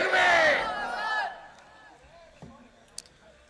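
A religious gathering crowd shouting the takbir, a loud burst of massed voices at the start that fades quickly into a quiet hall with a few faint knocks.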